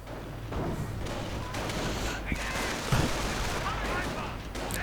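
Sniper and rifle shots ring out in a WWII strategy video game, a few sharp cracks and thuds, one stronger report near the end, over a steady din of battle noise and low rumble.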